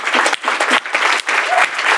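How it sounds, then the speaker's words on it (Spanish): A small studio audience applauds at the close of an interview, a short burst of close, bright clapping in choppy waves with brief gaps between clusters. "Un aplauso"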